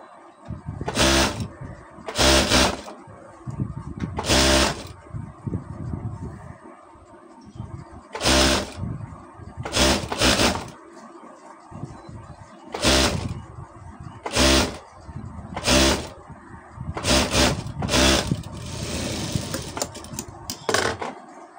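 A sewing machine runs in repeated short bursts, about a dozen spaced runs of rapid stitching, while a kameez sleeve is joined with double stitching; close and clear, with quiet gaps between bursts and no talk.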